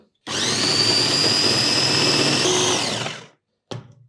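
Kitchen blender whirs at high speed for about three seconds while grinding raw spinach leaves, a steady loud motor drone with a slight pitch shift near the end, then stops and a short clatter follows.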